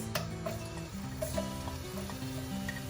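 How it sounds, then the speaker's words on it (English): Garlic frying in about three tablespoons of hot oil for a spicy saucy chicken, giving a steady close sizzle with faint stirring and scraping throughout, no voices. "when the oil is hot, I'm going to add in the garlic first"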